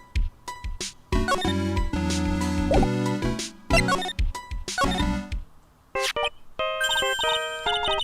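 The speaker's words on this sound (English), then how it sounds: "Nick, your cell phone's ringing" Chiming, electronic melodic tones from the Phoenix Wright: Trials and Tribulations video game, a cell phone ringtone playing in bright bursts with short pauses between phrases, clear and alone.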